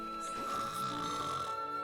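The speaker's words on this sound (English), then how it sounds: "What are these snoring noises that are happening?" Snoring in the Xenoblade video game, a single drawn-out breathy rasp lasting under two seconds over a steady hum of background music, fairly faint.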